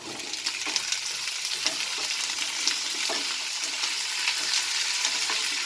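Potatoes fry in a pan with already cooked onions, giving off a continuous close sizzle and hiss, broken by scraping and stirring sounds.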